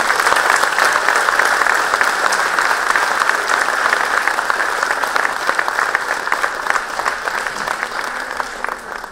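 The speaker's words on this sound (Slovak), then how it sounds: "No na záver asi jeden veľký potlesk pre Fandlivú školu." Sustained applause from an audience at a 30th anniversary celebration for Juraj Fándly primary school in Sereď, dense steady clapping that holds loud throughout and tapers slightly near the end.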